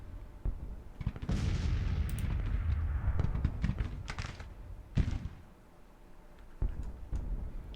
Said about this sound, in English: our infantry is going to have a chance to start firing on this battery